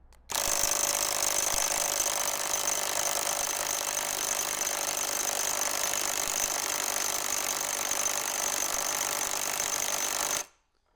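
Ingco cordless impact wrench running a 400 Nm fastening test, hammering in one continuous loud, rapid rattling burst for about ten seconds before stopping abruptly, with no talk.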